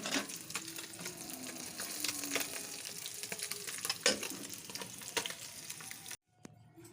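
Fish frying in a pan, a dense, steady crackling sizzle with a few spatula taps, heard close before cutting off abruptly near the end.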